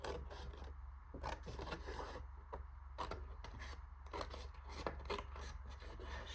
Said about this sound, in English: Should use my bigger scissors,